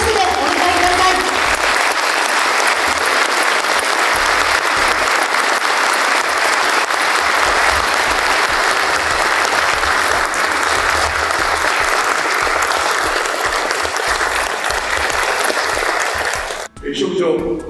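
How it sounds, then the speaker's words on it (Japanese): A ceremony audience gives loud, sustained applause as a guest of honour enters, a dense, unbroken roar of clapping that runs close and steady for most of the clip before breaking off near the end. "皆様盛大な拍手でお迎えください。"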